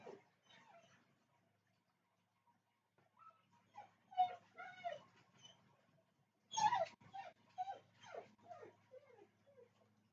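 A dog whimpers and cries indoors in a series of high, thin whines and yelps, some bursts louder and closer, separated by quiet pauses, with no talking.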